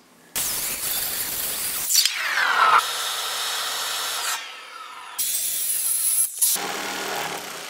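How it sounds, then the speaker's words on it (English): A circular saw cuts wooden rafters while running on a portable power station. Several loud, close, whining cuts are separated by brief pauses, and the pitch dips as the blade bites into the wood. "I probably made 40 cuts with a circular saw"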